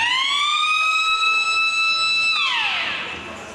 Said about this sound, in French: C'est le son de l'alarme générale.